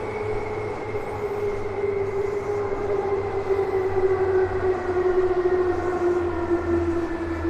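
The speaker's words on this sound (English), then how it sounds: "The train you're hearing is sometimes, I think, the Yamanote line." A Yamanote line train passes in Tokyo at night: a steady rolling rumble under a drawn-out whining tone that slowly slides lower as it moves by, with no talk.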